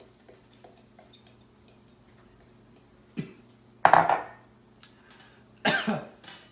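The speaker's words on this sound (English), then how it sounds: "you want to just mix this up till it's kind of, spread out evenly among the bowl" A spoon works salmon seasoning and pepper together in a bowl, giving scattered light clinks and scrapes in irregular bursts, close by, with a few coughs and throat-clearing sounds breaking in.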